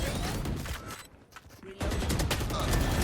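Rapid gunfire rattles in a tactical shooter match. A loud volley cuts out briefly and then resumes in a dense, sustained burst, with faint voices underneath.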